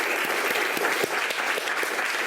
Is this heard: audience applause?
yes